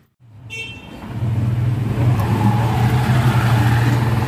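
A Honda car engine fires up after a brief silence and settles into a steady, loud idle close by, running continuously without talk.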